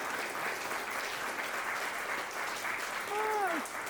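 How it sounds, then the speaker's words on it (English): Audience applause fills a community-building talk, a steady, dense clapping wash from start to finish, with a brief whistle-like tone near the end. "What you guys don't know is we have a few plants in here that are just starting claps."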